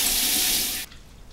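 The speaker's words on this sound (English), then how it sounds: "I'm gonna rinse my hands." A kitchen tap runs in a strong, steady splashing stream for under a second while hands are rinsed, then abruptly shuts off.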